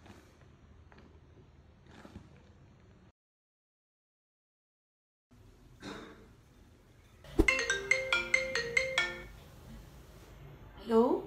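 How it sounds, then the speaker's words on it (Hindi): A mobile phone ringtone rings unanswered indoors, a loud melodic burst with repeated tonal notes that follows a stretch of quiet and a brief silence. "यार उठा लो यार फोन। क्यों बार बार यार?"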